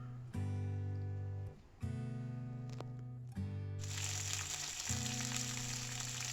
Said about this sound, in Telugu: నెక్స్ట్ కొత్తిమీర వేసి ఫ్రై చేసేస్తున్నాను